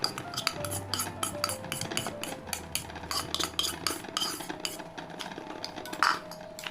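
Utensils clink and scrape repeatedly in a bowl as boiled egg salad is tossed and mixed with shallots and garlic, a steady rhythm of small metallic taps up close.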